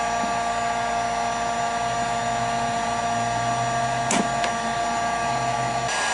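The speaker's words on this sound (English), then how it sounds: "heat everything up with the heat gun right around the seal" Heat gun blowing hot air around a car headlight seal, a steady, fairly loud whirring roar with an even tone, briefly broken by a couple of short clicks near the end.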